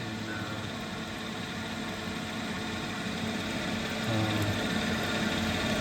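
Lapidary machine with textured grinding wheels running while a cabochon is shaped, giving a steady mechanical hum with a slight rise in intensity near the end.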